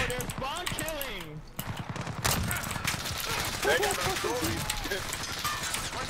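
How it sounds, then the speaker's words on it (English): Gunfire in the Call of Duty Modern Warfare video game on a multiplayer map, rapid bursts and single shots mixed with game effects, heard under near, continuous talk from players. "who is that shooting?"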